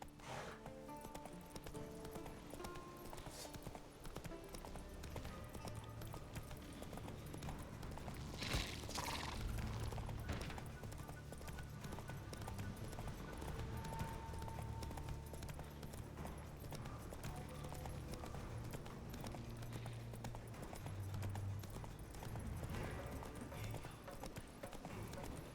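Horse hooves clip-clopping in The Witcher 3, a steady trotting rhythm over continuous game ambience for a long stretch, with a brief whinny-like sound midway and no clear talking.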